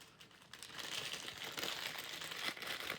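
A plastic bag is crinkled and rustled by hand in a kitchen, a steady close run of crisp crackling lasting the whole stretch, with no voices.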